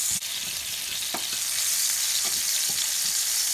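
Tomatoes sauté in a hot pan, skins blistering and swelling, with a steady broad sizzle and a few sharp pops and clinks of stirring scattered throughout.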